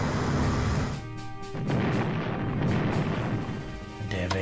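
Battleship guns in the World War II strategy game Strategic Command WWII, World at War fire in loud, heavy booming blasts with rolling rumble between shots, close and continuous throughout.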